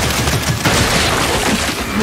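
Boomshot explosive rounds fire during Gears 5 multiplayer gameplay, a loud, dense burst of booming blasts and crackling detonations packed into two seconds, close and overwhelming.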